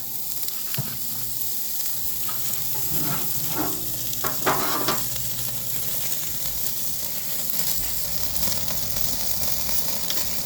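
Lamb loin chops sizzling on an outdoor grill, a steady soft hiss of fat and meat with a few brief clatters and scrapes near the start, no talk.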